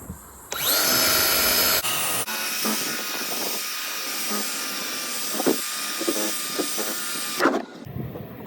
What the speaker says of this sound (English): Once it dries up, the polisher, once it's done, don't do it anymore.